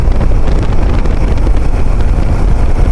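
Wind roaring past a motorcycle rider on a highway ride, a loud, constant buffeting rumble with no pauses and no talk.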